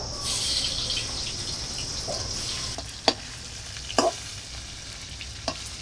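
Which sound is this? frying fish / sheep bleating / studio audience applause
frying fish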